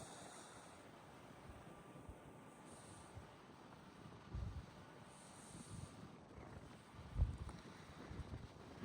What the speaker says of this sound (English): Sure is windy out here today a little bit.